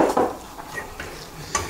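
A utensil stirs and scrapes choux pastry dough of butter and flour in a saucepan, with a few sharp clinks and knocks against the pan at close range.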